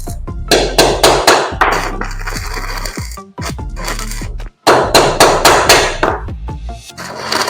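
A hammer strikes heated steel strip being bent for a channel gate, sharp ringing metallic blows in quick rhythmic bursts, loud and close, with brief pauses between series.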